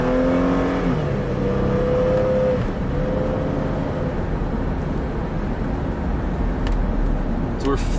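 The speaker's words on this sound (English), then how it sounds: "Flooring it." A GM V6 car engine is floored to full throttle, a steady loud roar with rising harmonic tones in the first few seconds, then a sustained broadband rumble with no talk.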